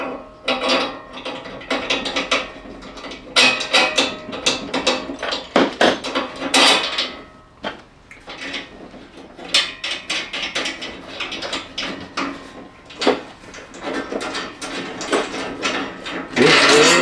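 Bolts being tightened while assembling a Next Level Racing GTRACER sim racing cockpit, with washers fitted on the front: repeated metallic ratcheting and clanking bursts, fairly close and busy, with short pauses between rounds of turning.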